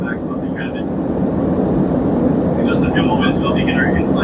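A steady, loud roar of an airplane engine fills the cabin and holds without a break, with faint voices under it.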